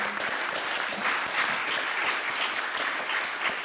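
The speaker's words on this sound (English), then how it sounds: "So now we are gonna applaud Christophe again." Applause from a conference audience at the main stage of an event, a dense and sustained patter of many hands clapping at steady loudness throughout, with no speech heard over it.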